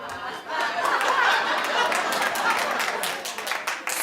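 A small audience claps in a brief scattered burst that swells and fades, with some chatter and light laughter mixed in.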